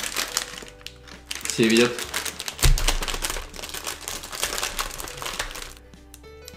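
An Oreo cookie package is torn open, its plastic wrapper crinkling and crackling up close in uneven bursts while people talk over it.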